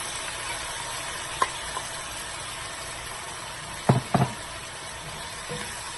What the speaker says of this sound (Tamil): எல்லாம் கலந்து விட்டுட்டு இந்த சிக்கனை சேர்த்துருங்க.